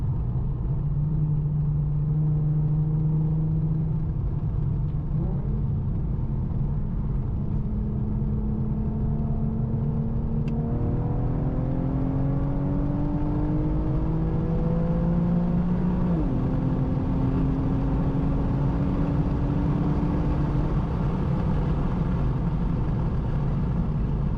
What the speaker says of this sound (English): Let's go into manual mode, downshift.